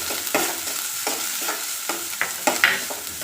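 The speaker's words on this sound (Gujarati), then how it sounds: "હવે બધી વસ્તુને સાંતળી લઈશું." Onion and curry leaves being sautéed in a pan, a continuous hiss of frying broken by repeated spatula scrapes at a steady stirring rhythm.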